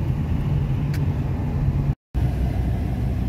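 A car on a road trip through Idaho makes a steady, loud road and engine rumble from inside the cabin, with a brief dropout near the middle.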